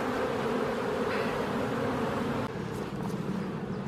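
Honeybees buzz around an open hive during a spring inspection: a steady, close, dense drone of many wings, unbroken throughout and slightly thinning near the end.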